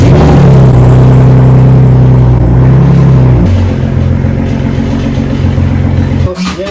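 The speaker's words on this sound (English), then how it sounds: "Today is a new day, so cold start on a Raptor with no muffler." A Ford Raptor with its muffler removed fires up from a cold start, a loud, deep, close rumble that idles high and uneven before dropping to a lower steady idle, with a brief clunk near the end.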